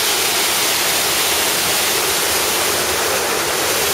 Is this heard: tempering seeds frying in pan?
no